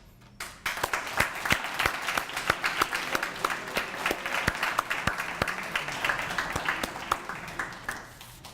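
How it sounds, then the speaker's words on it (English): Audience applause for student teams at an interdisciplinary IT and analytics data dive event, starting abruptly and holding steady for several seconds as a dense wash of claps with sharper individual strikes standing out. "I want to give all of you a big round of applause"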